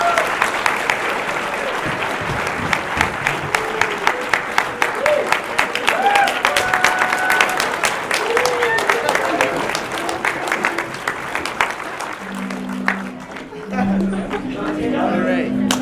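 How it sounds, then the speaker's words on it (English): Audience at a university holiday colloquium applauds the third-year graduate student cohort, steady dense clapping with cheers and chatter mixed in, fading toward the end as talk and music take over. "So can we get a round of applause?"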